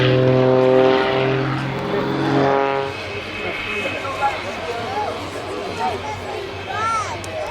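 A Pitts aerobatic biplane flies at an air display, its propeller engine droning loudly and then fading into the distance, with a commentator talking over it.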